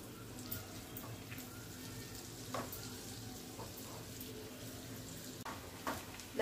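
Garlic softening in melted butter in a pan, a faint steady sizzle with occasional light scrapes of stirring.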